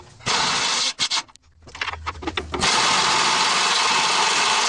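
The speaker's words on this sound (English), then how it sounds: "Next, we'll try the socket with the air impact." An air impact wrench with a socket hammering at a rusted nut, loud and close: a short burst, a pause with rattling, then a long sustained rattling run that ends abruptly, no talking.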